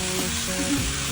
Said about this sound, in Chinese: 先把鱼骨煎掉进鱼汤